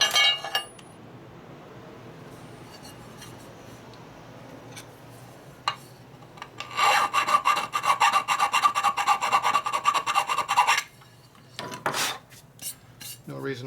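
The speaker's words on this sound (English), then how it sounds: "Only a few more swipes for the file is all it takes to do it" Metal hand file rasping on a custom chopper motorcycle part during a rebuild, a steady run of quick close strokes in the middle, with quieter shop noise before and after.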